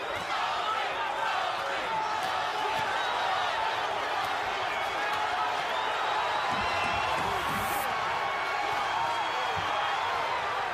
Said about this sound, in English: Crowd is starting to chant Toney